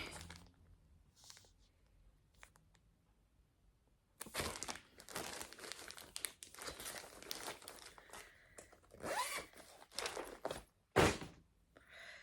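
A plastic project bag with a zipper is handled, giving repeated close crinkling and rustling bursts that start faint and grow louder, with a sharp crunch near the end.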